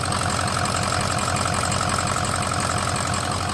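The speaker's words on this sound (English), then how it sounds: "it's definitely more lumpy, and it's definitely freaking screaming." A 6.0 diesel truck engine idling through a new turbo-back exhaust, a loud, close, steady lumpy rumble with rapid rhythmic pulsing and a rough, knocking diesel character.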